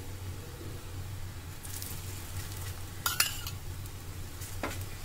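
Besan chilla frying in oil on a pan, a quiet steady sizzle with a low hum beneath and a couple of brief utensil scrapes and clinks.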